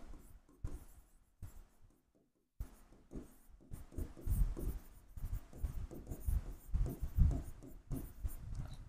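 Marker or chalk scratching across a classroom board in short bursts of strokes, with pauses between words, recorded close and fairly quiet.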